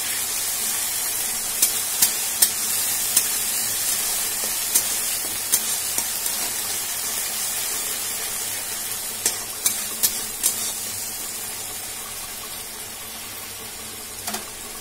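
Tomato puree being stirred into fried onions and green chilies for a Bengali tangra fish curry, a steady close sizzle and hiss with scattered spoon scrapes and ticks against the pan, no voices.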